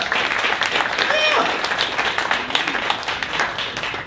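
A theatre audience breaks into continuous clapping and applause, dense and sustained from a crowd at moderate distance, with scattered cheers and a voice over the top.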